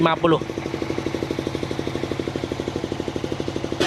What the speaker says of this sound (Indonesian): Ini untuk mesin bornya menggunakan Toho DH3 spindle 150.